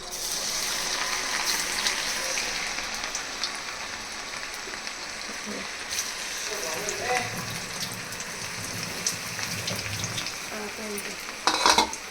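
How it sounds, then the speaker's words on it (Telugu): Hot oil poured over cauliflower coated in turmeric, chili masala and ginger-garlic paste crackles into a continuous rain-like sizzle, with stirring noises and a voice speaking softly underneath, plus a few louder clatters at the end. "వేడి ఆయిల్ వేస్తున్నాను ఫ్రెండ్స్"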